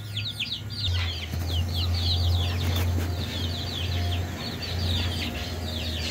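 Young chicks cheep in busy high chirps while chickens cluck and murmur nearby on a small farm, over a steady low hum that runs through the whole stretch.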